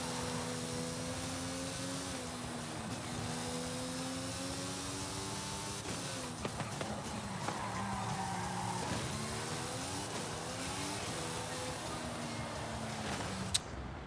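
A race car in Forza Horizon 5 slides with tire squeal over a steady, loud engine drone, the engine pitch rising and falling through gear changes, with no talk.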